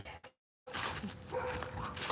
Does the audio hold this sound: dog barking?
yes